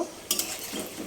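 Onions are stirred as they fry in a pan: a quick clatter of the utensil against the metal, then a dense, even sizzle that carries on close by.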